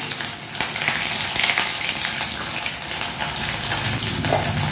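Ginger paste frying in a hot pan for a jackfruit kofta, a dense, continuous sizzle that stays loud and close, with some watery spitting and a faint scrape near the end.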